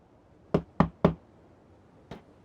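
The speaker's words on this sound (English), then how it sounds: "Mr. Cat knocked on Mr. Snowflake's door." A game sound effect of knocking on a wooden house door, three quick solid raps followed after a pause by one softer knock, crisp and close with no talking.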